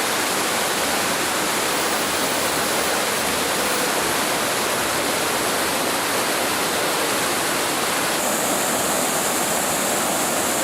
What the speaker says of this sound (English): Rivers of water rushed down from the mountain slopes, carrying mud and rocks, turning the valley into a sea of water.